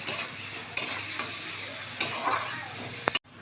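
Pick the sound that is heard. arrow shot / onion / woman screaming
onion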